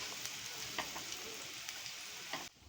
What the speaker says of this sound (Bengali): আমি এক একটা কোপ্তার আকারে শেপ দিয়ে প্রত্যেকটা লাল লাল করে আমি ভেজে তুলে নেব